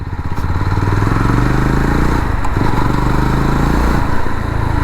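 A Jawa 42 FJ 350 motorcycle ridden along narrow small roads, its engine a loud, close, continuous drone with slight pitch shifts as it pulls.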